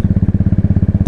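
A motorcycle engine runs close by while being ridden, its rapid, even firing pulses throbbing loud and steady for about a second.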